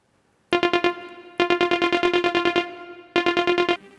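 A Yamaha DJX keyboard synth plays with its distortion DSP effect on, giving three bursts of fast, evenly repeated buzzy notes with short gaps between them, loud and close with no talk.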